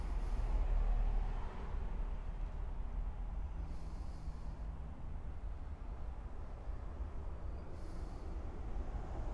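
A low, continuous rumble of trains in the distance, with faint hissing bursts recurring every few seconds over the steady drone.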